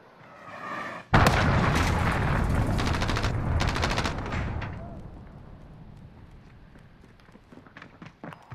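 An allied cruise missile strike in a video game sets off a sudden loud, sustained roar of blasts and rapid crackling fire that slowly fades, with scattered pops at the tail.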